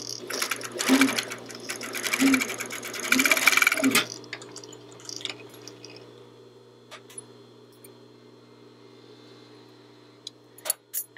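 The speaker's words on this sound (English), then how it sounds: "And then continuing to sew." Sewing machine stitching seams on a DIY corset, a fast loud mechanical whir in bursts over the first four seconds, then stopping into quiet handling noises and a few small clicks.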